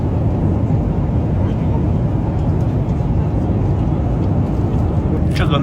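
Cabin of a mid-size Urumqi Airlines jet with 31 rows, in flight and heard from a seat near the rear. A loud, steady, even roar holds for the whole stretch.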